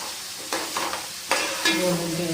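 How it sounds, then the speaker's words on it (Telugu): Ingredients for a Godavari-style fish curry sizzling in a pan, with steady close frying hiss and several scraping stirs, no voices. "అంతా బాగా వేగాలండి."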